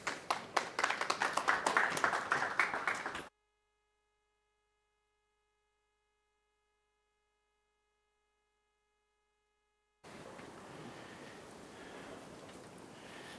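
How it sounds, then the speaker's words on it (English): Audience applause at a high-level trade and investment roadshow event in Cape Town: about three seconds of dense, steady clapping that cuts off abruptly into silence, then a low background hiss returns. "Please give him a round of applause."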